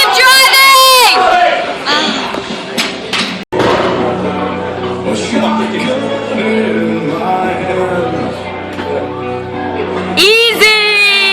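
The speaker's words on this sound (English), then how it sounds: "Come on, everybody, let's cheer him on." Spectators shout and cheer in a loud, sustained wall of crowd noise for a competitor named Pete at a USPA Strong Box Pro/AM strongman competition, with a brief drop in the middle before the cheering picks back up.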